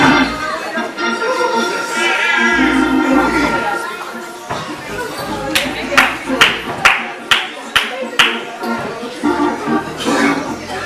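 A church congregation clapping hands: loud, evenly spaced claps in a rhythmic run come in after a stretch of lively voices and crowd chatter, and talk continues beneath them.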